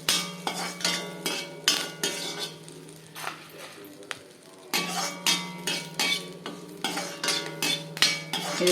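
Curry leaves with urad and chana dal roasting in oil in an iron pan, a spoon scraping and clinking against the metal in repeated rhythmic strokes over a faint sizzle, with no talk.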